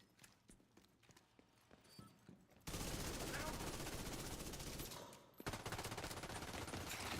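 A submachine gun firing in a video game: quiet game ambience gives way to a sudden, loud, sustained burst of rapid automatic fire, a brief pause, then another burst resumes.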